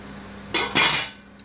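A metal lid is set back onto a roasting tin holding sticky ribs, giving a short scrape and a brighter metallic clatter as it settles, then a faint small clink, close and clear with no talk.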